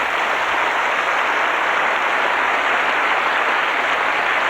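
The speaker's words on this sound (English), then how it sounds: "so I'll give him a clap now." Audience applause filling a 1981 Adelaide television studio show, a dense steady wash of many hands clapping at once, sustained and fairly loud throughout without pause.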